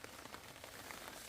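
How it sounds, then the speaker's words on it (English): Rain begins falling on a tent during wild camping on a hill in Northumberland, giving a steady, close patter of scattered drops over a soft, continuous hiss, with no voices. "Oh, it's starting to rain."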